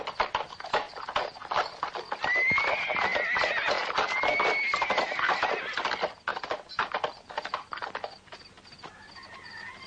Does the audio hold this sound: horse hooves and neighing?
yes